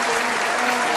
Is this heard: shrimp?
no